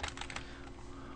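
Brief burst of quiet clicking keystrokes on a computer keyboard while entering a command on a Raspberry Pi, a short run of taps followed by a faint lull, no voices.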